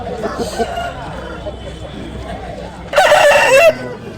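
A heavy rooster crows once, loud and close, at a busy Sankranti village market full of fowl, with clucking and people talking around it.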